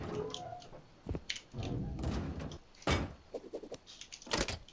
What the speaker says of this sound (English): Place some doors on.